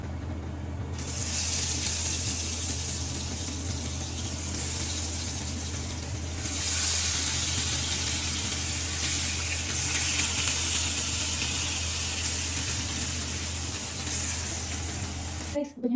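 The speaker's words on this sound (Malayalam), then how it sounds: "ഞാൻ സാൽമൺ വറക്കാൻ പോവാണ്" Salmon fries in oil in a pan with a steady, loud hiss and sizzle held close for the whole stretch, swelling slightly at times, with a low hum underneath and no talking.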